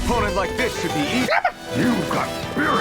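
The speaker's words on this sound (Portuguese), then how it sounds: "agora tem cachorrinho, mano." In the video game Tales of Arise, a dog yips and barks in short bursts amid battle noise, with overlapping voices talking throughout.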